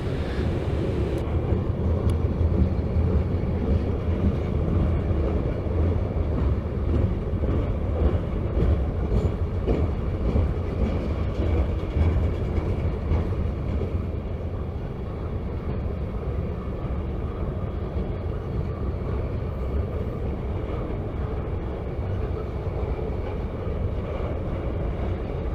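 A long CSX freight train rumbles past close by, a steady heavy roar with rattling wheel noise and clanking cars, continuous throughout with no voices.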